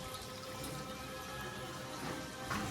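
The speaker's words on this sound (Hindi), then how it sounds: "इसके अंदर पानी डाल देंगे धोने के लिए" Water poured over hand-chopped minced meat in a home kitchen to wash it, a faint steady trickling and splashing that goes on throughout, with a slightly louder burst near the end and no talk.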